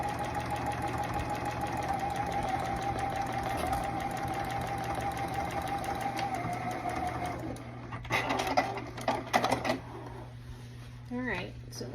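A sewing machine stitches a bulky denim jacket at low presser pressure, running in a steady fast whir for about seven seconds, then stopping into short bursts and handling clatter.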